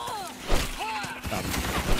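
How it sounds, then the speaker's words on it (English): Gunfire in Starship Troopers: Extermination, a few loud, sharp shots in quick succession over a busy, noisy battle with whining tones in the background. "Quit shooting me."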